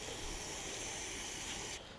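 A continuous aerosol spray of carburetor cleaner hisses close by for about two seconds onto a push-mower engine carburetor, then cuts off, leaving a faint background.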